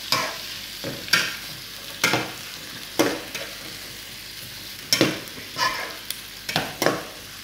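Chopped onion and green chili sizzle in a hot pan while a spoon stirs them, giving sharp scraping strokes at irregular intervals over a soft, steady frying hiss.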